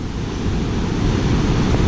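Heavy surf breaking against a rocky coastline at Rockaway under cloudy skies, a continuous loud roar of churning water with wind buffeting the microphone and no pauses throughout.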